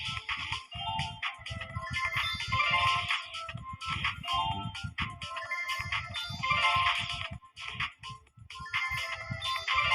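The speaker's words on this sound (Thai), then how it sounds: "มีแจ้งเตือนอะไรวะเนี่ย" A loud, repeating electronic alert tone from a phone during a slot game, a bright chiming melody cycling continuously for the whole stretch with brief gaps between phrases.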